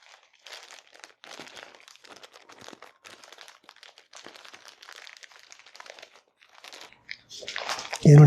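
A wrapped birthday gift gets unwrapped, with close crinkling and crumpling of paper in a steady series of rustles and tears, ending in a louder burst of sound.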